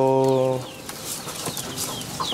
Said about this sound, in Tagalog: nag-aalaga tayo ng mga native na manok.